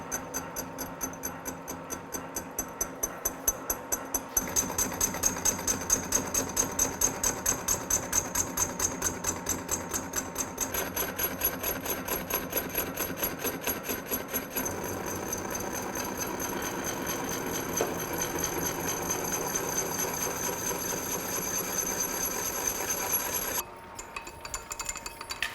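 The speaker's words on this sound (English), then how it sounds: "Just trying to clean up our mess on the inside with the boring bar." A lathe boring bar cuts inside a worn drive hub, giving a steady, rapidly pulsing mechanical clatter with a faint high metallic tone over the machine's running hum, with no talk.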